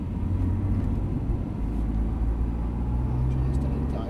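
A Porsche engine hums at light throttle, a steady low drone with a faint rising tone, continuous and close, like from inside the car.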